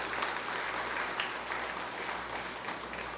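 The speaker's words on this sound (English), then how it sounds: "Let's give her another round of applause." Audience applause at the launch event of an educator innovation centre, following a musical performance; a steady, moderately distant wash of clapping holds evenly throughout with no voices over it.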